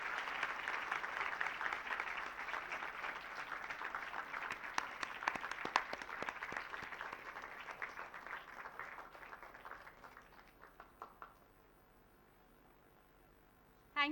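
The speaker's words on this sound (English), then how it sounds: "we all can give a huge round of applause to" A seated audience at a magazine launch event claps in a long, even round of applause that gradually thins and fades after about eleven seconds, heard at a moderate distance.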